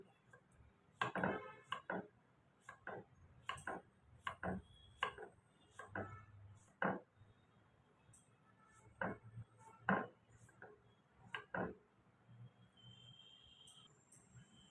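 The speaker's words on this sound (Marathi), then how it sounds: "तुम्हाला हव्या बारीक मोठ्या अशा फोडी तयार करून घ्या." A knife chops raw green mango into pieces on a board, giving sharp, sparse taps at an uneven rhythm, fairly close but soft, with no talking.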